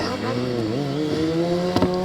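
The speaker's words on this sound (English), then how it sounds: "So that's some super bikes spinning around in the space of your front room." Superbikes circle the Wall of Death at the Wheels Festival bike day in Great Yarmouth, a steady, loud engine drone with shifting harmonic pitch as they lap the drum, and a brief sharp burst near the end.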